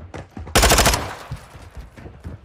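Rapid automatic gunfire from a first-person shooter video game: a loud, close burst of several quick shots lasting about half a second, followed by fainter scattered game sounds and footsteps.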